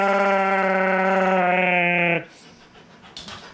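A voice imitates the loud horn or engine noise of his big truck, a sustained bleating drone held for about two seconds before breaking off into quiet background.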